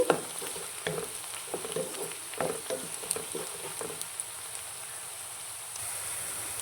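Onions frying in a pan crackle and sizzle, with irregular taps and scrapes from stirring early on that settle into a quieter, even sizzle toward the end.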